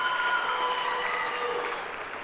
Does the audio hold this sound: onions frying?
no